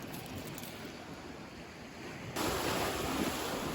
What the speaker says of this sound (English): Do like it when the waves hit the rocks.